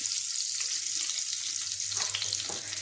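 Urad dal, curry leaves and dried chillies frying in hot oil: a dense, steady hiss of sizzling close up, with a couple of faint stirring scrapes toward the end.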